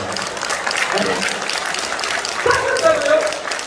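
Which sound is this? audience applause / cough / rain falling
audience applause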